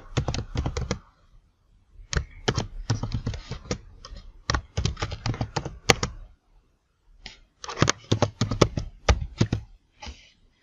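Rapid typing on a computer keyboard while entering a YouTube playlist title, with close, crisp key clicks in bursts separated by brief pauses and no talking.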